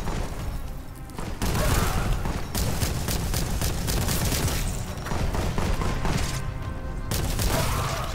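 Enemy gunfire in Warhammer 40,000: Boltgun, a loud, dense, continuous barrage of shots and booms with brief lulls, dominating the scene with faint talk beneath.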